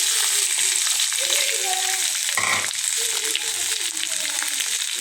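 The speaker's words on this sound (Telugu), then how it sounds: "ఇప్పుడు మనం తరిగి పెట్టుకున్న దొండకాయ ముక్కల్ని దీంట్లో వేసుకోవాలి" Chopped ivy gourd pieces tipped into a pan of hot oil with curry leaves, a continuous crackling sizzle with a brief louder clatter as the pieces land, then steady frying.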